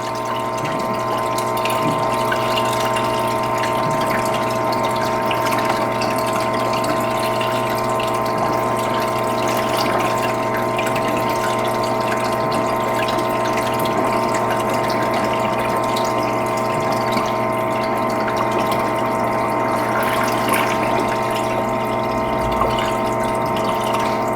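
An electric pump hums steadily as water flows through a PID control demonstration rig, a constant droning whir with liquid rushing underneath, unbroken and fairly loud for the whole stretch.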